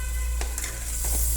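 Coconut palm grubs fry in a pan with a constant, close hissing sizzle and a few soft stirring or scraping touches.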